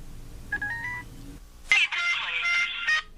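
Short electronic telephone tones sound while a call is placed, first a brief pair of faint beeps, then a louder, longer warbling tone burst, close and clear with no voices.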